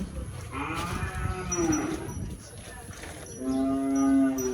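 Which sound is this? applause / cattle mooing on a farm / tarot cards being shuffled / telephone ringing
cattle mooing on a farm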